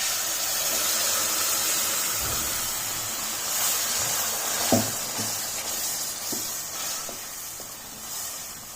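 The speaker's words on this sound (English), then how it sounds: "We will fry this mixture for some time." A mixture of tomato puree and tomato paste sizzles and hisses steadily in a pan, with a few soft scrapes and clinks as it is stirred.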